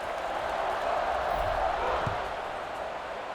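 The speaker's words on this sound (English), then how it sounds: "this crowd is buzzing after that last score" Stadium crowd in the College Football 26 video game buzzing after a score, a steady dense roar of many voices with a couple of faint thuds, continuous at moderate loudness.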